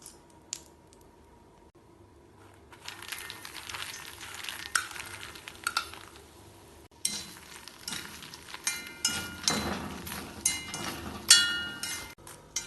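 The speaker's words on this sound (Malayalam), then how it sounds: "ഇനി ഇതേ പാനിലേക്ക് വീണ്ടും 1 ടേബിൾ സ്പൂൺ നെയ്യ് ഒഴിച്ച് 1/2 കപ്പ് മഖാന ഇട്ട്" Makhana (fox nuts) roasting in ghee in a pan: soft crackling sizzle and light rattling stirs that start quietly and grow busier, with faint clinks along the way.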